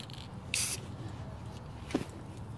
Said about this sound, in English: Okay, so we're going to spray paint it.